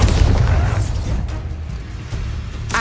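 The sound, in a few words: Bombarda blasting spell in video game Hogwarts Legacy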